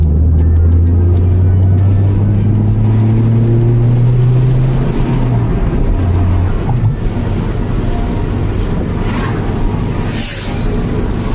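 A 1994 Mazda MX3 cruising over the Bel Air Bridge near Clearwater Beach, Florida: steady, loud low engine and road drone with wind rush throughout and a brief dip midway, no talking.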